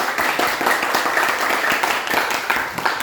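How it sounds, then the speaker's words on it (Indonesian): A classroom of students claps for a classmate named Arsa after she recaps a lesson on energy, a steady patter of many hands filling the room for about three seconds. "tepuk tangan dong buat Arsa"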